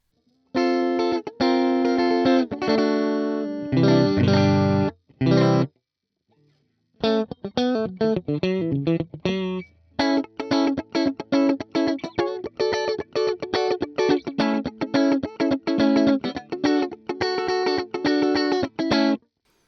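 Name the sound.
very dry clean electric guitar tone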